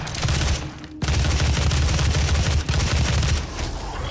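Rapid assault rifle fire in the shooter Doom 2016, sustained automatic bursts that rattle loudly and continuously, with a short break near the start and another brief dip later, no voices over it.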